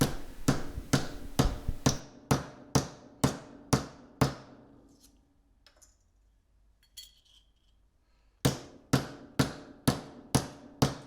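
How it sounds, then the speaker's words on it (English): A rubber mallet flattens bottle caps against a vise, giving a run of sharp, evenly spaced strikes about twice a second, then a pause of several seconds before the steady blows resume. "Just take a rubber mallet and just hit it right on your vise."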